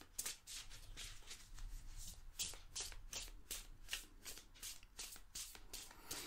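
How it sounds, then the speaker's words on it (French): Close riffle-shuffling of an 80-card oracle deck by hand, a dense run of crisp card flutters and slaps repeating throughout at steady moderate volume, with no talking. "Malgré qu'il y ait 80 cartes, on peut voir qu'il se prend très facilement en main, il se mélange très très bien."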